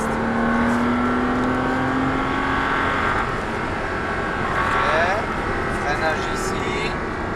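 A Porsche Cayman S accelerates hard around a race track, its engine note rising in sweeping harmonic climbs that stay loud and steady throughout, with an instructor talking over it.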